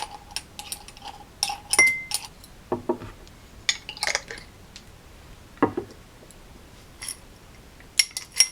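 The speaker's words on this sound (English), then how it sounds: "I'm just going to stir it all up." Dry incense ingredients, including whole star anise, are stirred in a bowl, producing scattered light clinks, rattles and scrapes in irregular bursts against a quiet background.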